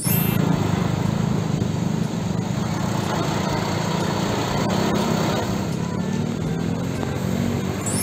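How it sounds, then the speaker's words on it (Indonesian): A tanker truck engine drones steadily at moderate volume, with a constant buzzing rumble and no change in rhythm throughout and nobody talking. "selanjutnya ada mobil tangki"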